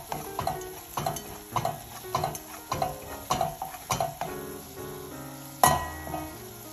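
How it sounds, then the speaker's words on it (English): A spoon stirs a seasoned potato au gratin mixture in a pan with a regular series of scraping, clinking strokes, close and distinct, over soft background music. "Let's give it a good stir."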